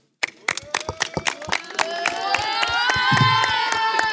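An audience at a rap cypher claps in sharp bursts, then breaks into sustained cheering and whooping voices that swell and hold loudly to the end.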